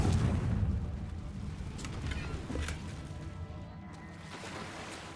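A Confringo spell blast in Hogwarts Legacy: a deep rumbling boom that opens loud and decays into a low, lingering roar with scattered crackles over a few seconds.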